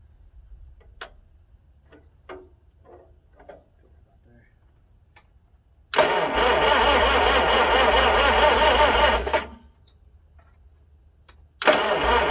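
A 1955 Farmall 300 RC tractor that had sat for 14 years, its starter cranking into a loud, steady engine run for about three seconds before cutting out, then firing again, preceded by quiet clicks and handling noises.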